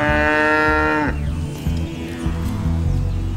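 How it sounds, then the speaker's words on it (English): Cattle on an island farm low loudly, one long sustained moo falling at the end, followed by further overlapping lowing and bleat-like calls from the herd close by. "Cattle are the largest livestock on the island"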